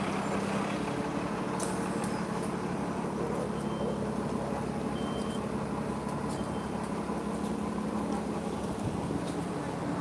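A bus idles at a stop near the water with a steady low engine rumble and broadband traffic noise, plus a few faint clicks and squeaks, continuous throughout.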